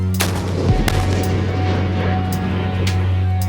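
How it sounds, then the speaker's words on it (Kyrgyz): A military firing platoon fires a volley on a unit anniversary ceremony ground, a sharp burst of shots over a loud steady hum, followed by a few scattered distant cracks. "Биринчи ок атуу взводу огат."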